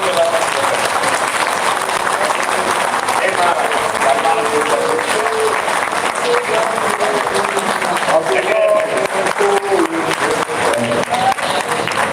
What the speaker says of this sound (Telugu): గట్టిగా ఒక్క నిమిషం సేపు చప్పట్లు కొట్టి